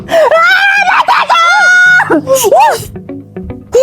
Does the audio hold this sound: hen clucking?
no